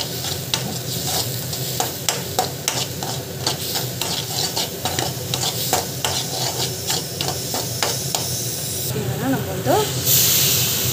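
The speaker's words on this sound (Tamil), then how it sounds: "நல்லா வதக்கிக்கோங்க." Spices with chili powder, turmeric and coriander powder being stirred and sautéed in a pan, giving a steady close sizzle with repeated scraping taps of a spoon throughout, with a brief brighter hiss near the end.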